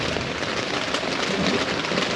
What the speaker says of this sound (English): and it's raining real good